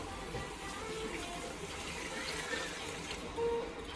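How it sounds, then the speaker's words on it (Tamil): Mutton cooking water pours steadily into a pot of biryani with a soft, continuous trickling wash, faint and close, without any voices. "இப்போ மட்டன் வேக வச்ச தண்ணியை நான் சேர்த்துக்கிறேன்."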